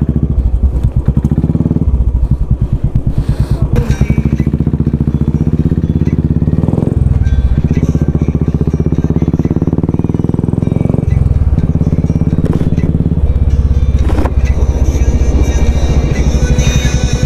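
Several motorcycles ride along a road together, engines droning loudly and continuously with rising and falling revs, occasional gear changes and bursts of wind noise.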